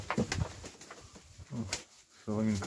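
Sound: young Iranian fighting pigeon

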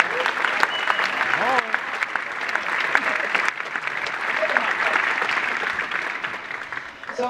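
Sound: audience applause

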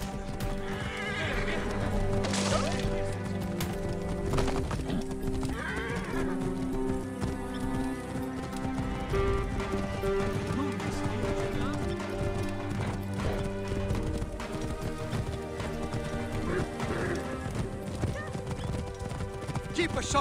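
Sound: horse neighing and galloping hooves in Assassin's Creed Origins video game

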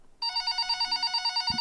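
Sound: telephone ringing at 4 a.m

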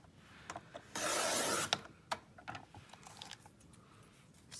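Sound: cutting a paper mail insert into strips

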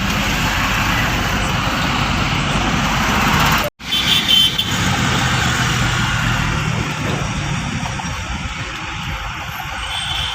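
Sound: road traffic jam with buses and trucks

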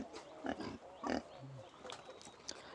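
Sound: pigs on a farm

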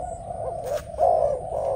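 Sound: Malaysian decoy dove cooing

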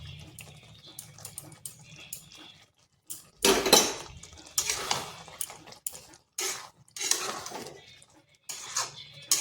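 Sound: stirring bottle gourd curry in a cooking pot

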